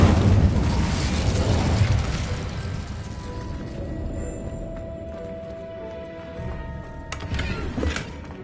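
A fire spell cast in Hogwarts Legacy erupts as a loud burst of flame and magical roar, fading into a sustained crackling rumble with a tonal hum and a smaller flare near the end, with no talking.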